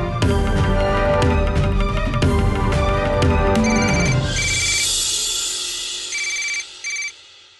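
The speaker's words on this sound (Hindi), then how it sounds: "किसका फोन था?" A telephone rings in a Hindi TV drama scene, its electronic ringtone starting over background music and then repeating in short bursts as the music fades.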